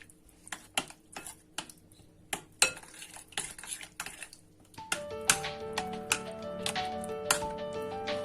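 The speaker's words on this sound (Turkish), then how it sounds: "Güzelce karıştırıyoruz." A utensil stirs a pizza topping mixture of cheeses and water in a bowl, giving repeated clinks and scrapes that grow busier and brighter partway through, close up with no talking.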